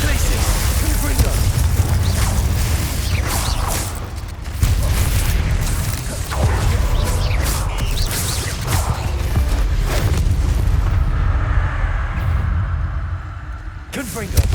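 Confringo blasting-spell explosions from Hogwarts Legacy gameplay, a dense run of loud booms and whooshing bursts lasting throughout, with a shouted voice layered over the din.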